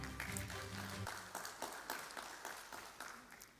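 Workshop audience applause at a tax awareness event, scattered claps over a low hum, starting fuller and thinning into separate individual claps that fade out.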